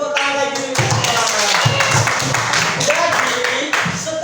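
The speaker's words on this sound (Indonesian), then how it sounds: "Tepuk tangan lagi." A school class claps their hands together in a lesson, a loud close burst of clapping with rhythmic patterns and short pauses, with voices mixed in.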